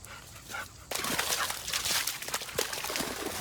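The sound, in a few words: dog Lola whimpering and barking near water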